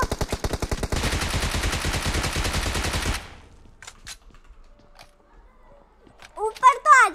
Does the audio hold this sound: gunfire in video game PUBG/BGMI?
yes